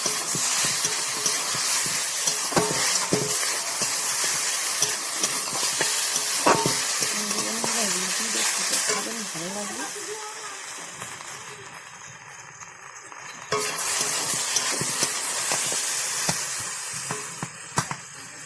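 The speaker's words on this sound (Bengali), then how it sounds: "এর মধ্যে একটু ঘাটা মশলা দিয়ে দেবো অল্প পরিমাণে, দিয়ে ভালো করে কষিয়ে নেবো এটা" Ground spices frying and being stirred in a pan for a Bengali recipe made from leftover ingredients, with a steady loud sizzle and scraping stir strokes that thin out briefly in the middle and then return.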